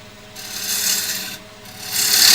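A carving tool drawn across wood in pull cuts at about 45 degrees gives two loud rasping, scraping strokes with a short pause between them, close up and with no talk.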